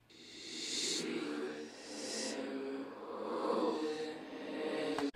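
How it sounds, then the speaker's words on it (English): A reverse reverb effect on a lead vocal, heard alone as ghostly swelling washes of voice that rise and cut off abruptly, with no dry singing on top. "The first one being a reverse reverb on the lead vocal,"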